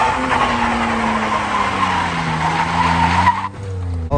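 Car drifting and spinning its tires at a street car meet, a loud, sustained tire squeal over a revving engine whose pitch sweeps down and back up, close by and continuous, cutting off sharply near the end.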